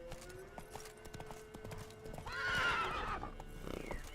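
Roach, the horse in The Witcher 3 video game, clops along with steady hooves throughout, then lets out a loud whinny midway, heard alone without talk.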